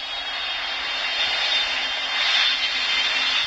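Boeing 747 jet engines in the Roblox game PTFS idle with a steady, loud whining hum and a broad airy roar, swelling slightly midway, with no voices.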